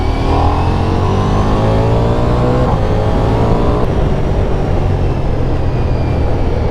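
Ducati Diavel V4 motorcycle engine accelerating hard, loud and close, with rising pitch through quick-shifter gear changes, heavy wind roar underneath.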